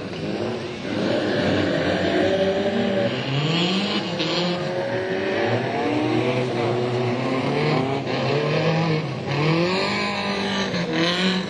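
Race cars at Gympie Speedway, a wet dirt oval in light rain, scream around the track with wavering, revving engine notes rising and falling as they pass, loud and continuous with several cars overlapping.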